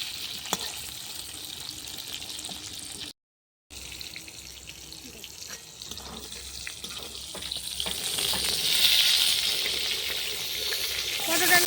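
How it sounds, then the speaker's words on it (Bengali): Pointed gourd frying in oil in a pan over a clay stove, a continuous crackling sizzle with occasional stirring clatter, briefly cut off, then returning and growing louder toward the end. "এরকম করে লাল করে ভাজতে হবে পটলটা"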